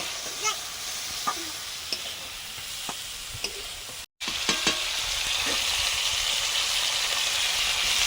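Steady sizzling of bitter gourd frying in a pan, a continuous hiss with occasional taps of a utensil, briefly cut off midway then resuming.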